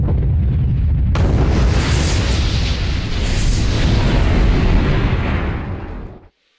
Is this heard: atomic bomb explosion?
yes